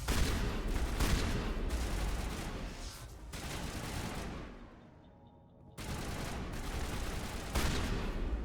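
Gunfire from Mass Effect rattles out in sustained rapid bursts, loud and close. A brief quiet gap falls between volleys before the shooting resumes.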